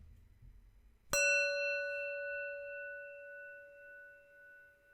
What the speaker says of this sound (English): we will hear the sound of the bell together.